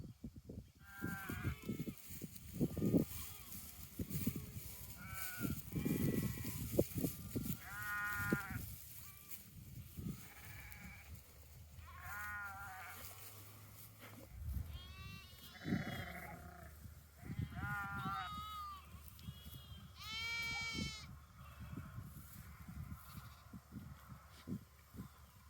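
Sheep and goats bleat repeatedly on a rotationally grazed pasture at a sheep farm in the Finger Lakes area of western New York, several animals calling near and farther off with pauses between, over soft outdoor ambience.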